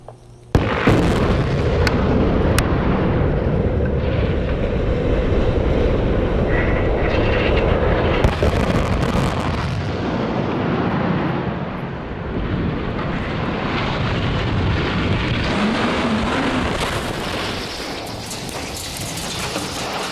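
Demolition explosions bring down a 213-metre tower, heard as a loud, sustained rumbling roar with a sharp initial blast and a few cracks, the heavy low-frequency thunder of collapse rolling on for twenty seconds.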